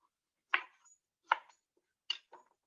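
A knife cuts through firm squash in four distinct, sharp strikes spaced apart, quiet and close with silence between them.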